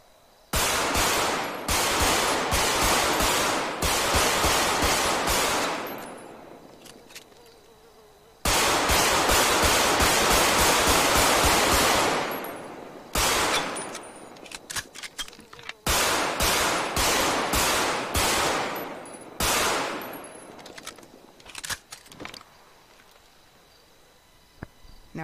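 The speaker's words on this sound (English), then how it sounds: "the Glock sounds amazing" Glock pistol fire from a weapon sound mod in a FiveM police roleplay game, loud bursts of rapid shots in several long volleys separated by short pauses, with a faint insect-like buzz between bursts.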